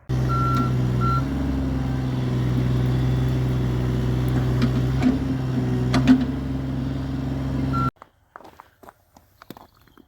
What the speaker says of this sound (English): I have a little short clip of a digger pulling this out of its forever home as well